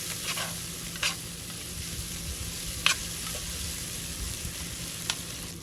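Vegetables cooking in oil in a pan, a steady close sizzle and crackle with a few sharp spatters and utensil scrapes throughout, no voices.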